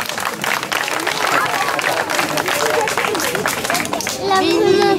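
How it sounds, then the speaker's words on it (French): An audience at the Montferrand medieval fair claps for a street performer's magic act, dense applause running the whole time with talk and voices mixed in, swelling louder at the end. "Oui, vous l'applaudissez encore."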